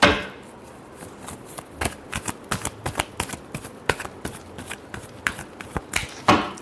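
Tarot cards are shuffled by hand in a rapid series of crisp, close riffling slaps and flicks, irregular but dense, ending with a louder final snap, with no voices.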